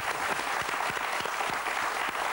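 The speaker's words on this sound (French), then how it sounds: "on va vous applaudir" An audience claps steadily, a dense patter of many hands at moderate distance, continuing without pause and without voices.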